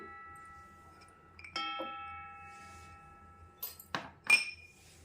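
Garlic cloves dropped into a blender jar already holding roasted tomatoes, giving a few hard clinks and knocks against the jar, the last ones louder and ringing, in an otherwise quiet kitchen.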